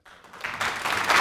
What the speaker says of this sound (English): no need to applaud at this time.